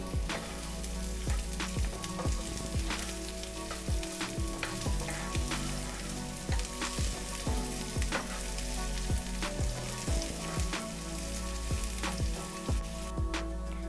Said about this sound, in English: now I'm going to add both the onion and the chilli at the same time, and again stir until golden brown